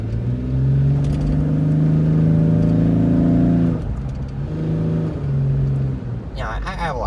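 A 1999 Ford Explorer Sport with a V6 gas engine being driven: a loud, close, steady droning engine hum that dips briefly midway, then resumes and shifts pitch near the end.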